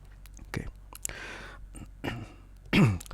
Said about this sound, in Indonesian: batuk dulu sedikit ya.